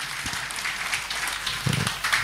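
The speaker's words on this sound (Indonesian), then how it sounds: "Boleh kita kasih tepuk tangan untuk yang bertanya dulu." An audience applauds after a question-and-answer session, a short burst of steady clapping at moderate loudness with no talk over it.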